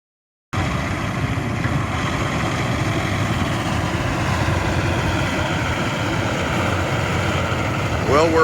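Heavy excavating machine digging out gravel at a home building site, a loud continuous engine rumble with steady churning, closer and unbroken throughout, with a faint squeal near the end.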